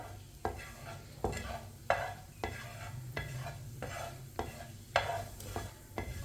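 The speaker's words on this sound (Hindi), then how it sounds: "1 चमची साबुत जीरा, आधी चमची साबुत धनिया। दोनों चीज़ों को 1 मिनट के लिए भून लेंगे।" Whole cumin and coriander seeds roasting in a pan while being stirred: soft sizzling under a series of scraping stirring strokes, roughly one every second, quiet and close, with no talk.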